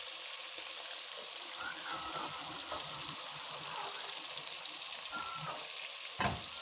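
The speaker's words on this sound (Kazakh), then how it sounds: "Сәл қуырылды деген кезде пиязымызды саламыз." Chopped onions fry with meat in an oiled pan for mung bean soup, a continuous close crackling sizzle with light stirring scrapes and a brief clatter near the end.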